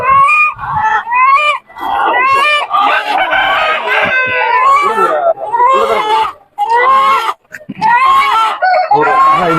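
A white-legged rooster crows loudly and repeatedly up close at a chicken market in Paramathi Velur, its strained calls overlapping with clucking and a voice talking nearby.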